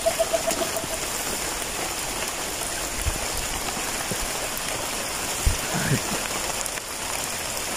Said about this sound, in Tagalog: Maulan mga idol